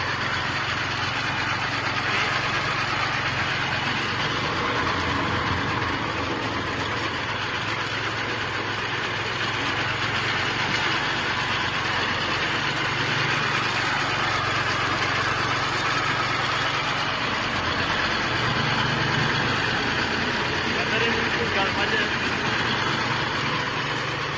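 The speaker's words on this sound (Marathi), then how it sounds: "हे ऑलरेडी मशीन चालू झाला." A cashew apple de-seeding and stomping machine runs steadily, giving off a continuous loud mechanical drone with a low rumble that holds for the whole stretch, with no one talking.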